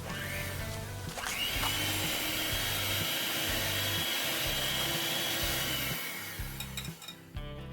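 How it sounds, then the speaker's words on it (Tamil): An electric hand beater whirs steadily while beating cream cheese for a red velvet cake, its motor pulsing in a regular rhythm as the bowl is worked, then briefly slowing near the end. "ஒரு எலக்ட்ரிக் பீட்டர் வச்சு 2லேருந்து 3 நிமிஷம் நல்லா பீட் பண்ணிக்கோங்க"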